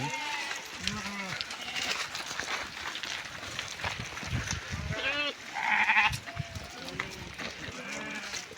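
Sheep bleat repeatedly at a moderate distance, several overlapping calls amid outdoor noise, with a voice talking intermittently underneath.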